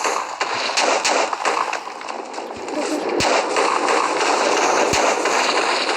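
A meteor blast in a video game, a loud continuous roaring rumble with crackling bursts and sharp pops, dense and close throughout.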